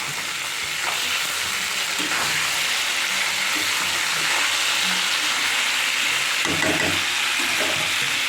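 Potatoes and drumsticks fry in a pan with a dense, close sizzle, punctuated by a few scraping stirs and clinks as the pieces are moved about.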